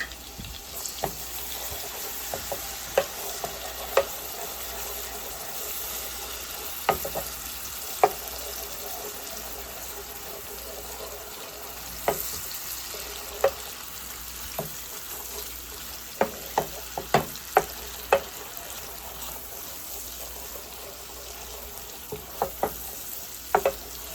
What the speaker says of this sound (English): Next, I'm going to go in with my garlic.